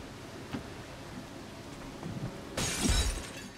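Glass shattering in the video game XCOM 2, a sudden loud crash of breaking glass that bursts in near the end over low rumbling impacts, following a quieter stretch of game ambience.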